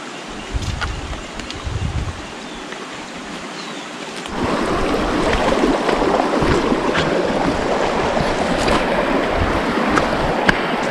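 Water being filled from a river, a continuous rushing and gurgling flow close to the microphone that grows louder and fuller partway through, with occasional splashes and no talking.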